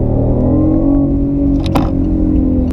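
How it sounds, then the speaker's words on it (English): A BMW i8 hybrid supercar in sport mode, petrol engine running alongside the electric motor, heard from the cabin as a loud, steady, deep engine drone. "the car really sounds so good from the inside"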